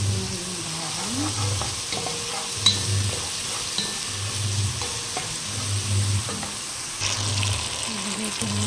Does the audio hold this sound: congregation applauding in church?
no